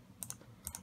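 Light typing on a computer keyboard while working in design software, two short pairs of crisp key clicks separated by a brief pause, close and quiet with no talking.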